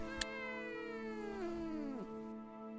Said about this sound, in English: he noticed an orange cat walking toward him.